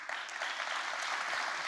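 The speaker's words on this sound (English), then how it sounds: "we should sure applaud for that." Conference audience applause fills a hall, a dense steady clatter of many hands clapping at moderate distance, brief and without talk.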